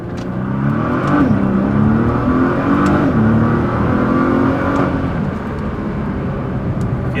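A Nissan R35 GTR with all-wheel drive pulls away and accelerates, its engine note climbing and shifting through gears, loud and close from inside the car, with a constant heavy road and wind roar underneath.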